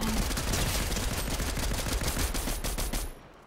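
Rapid gunfire in a video game shooter, a dense run of sharp shots filling the clip at steady loudness before cutting off abruptly near the end.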